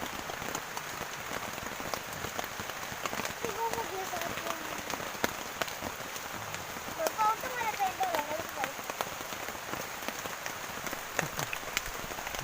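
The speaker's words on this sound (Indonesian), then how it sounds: "terpaksa berteduh dulu di tenda sambil menunggu hujan reda" Rain falls steadily on a tent beside Riam Kanan lake during a fishing trip, a dense, continuous patter with occasional sharper drops. It stays close and fairly even throughout.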